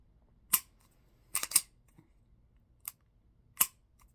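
A Taurus GX4 pistol is dry-fired and its trigger gives sharp, close mechanical clicks, about five in all, irregularly spaced with two in quick succession, in a quiet room.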